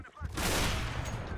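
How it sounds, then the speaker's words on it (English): A shotgun blast in a video game, a loud burst of gunfire that fills the moment after a brief voice, followed by a sustained noisy tail. "that shotgun is so OP"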